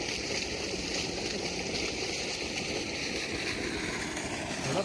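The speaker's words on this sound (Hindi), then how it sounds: "फुल डिलीवरी पानी की निकल रही है, कोई गैप नहीं है, बिल्कुल फुल भरी हुई निकल रही है।" Water gushes steadily from a solar-powered tube well driven by a 10 hp motor in Bhalwal, a dense, continuous rushing wash with no pauses and no voices.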